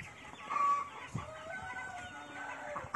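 Farm chickens cluck quietly and intermittently, with brief fowl calls rising now and then over a soft background.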